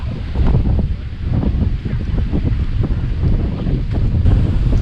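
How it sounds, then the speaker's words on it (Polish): Strong gusty wind before rain at the seaside in Gdańsk, buffeting the microphone, a loud, continuous roar with rumbling low-end bursts and no pause. "już jest ten wiatr przed deszczem"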